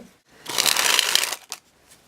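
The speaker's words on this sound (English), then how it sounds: "The cards spring really well, and the shuffling is really good as well." Lancer EX playing cards are sprung and shuffled, a dense papery riffle lasting about a second, followed by a brief final flutter of cards settling, close and crisp in a quiet room.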